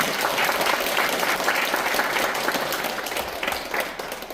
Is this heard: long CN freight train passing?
no